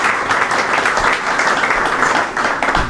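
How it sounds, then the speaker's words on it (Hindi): A church congregation at a Christmas night service breaks into loud, steady applause, a thick continuous roar of clapping close and full for a few seconds. "जोरदार तालियां।"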